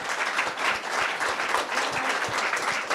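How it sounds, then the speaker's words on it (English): An audience gives a round of applause, many hands clapping in a dense, continuous wash that stays fairly even for a few seconds, with a few closer, sharper claps standing out. "So I would like to ask for a huge round of applause for Rosemari Mealy."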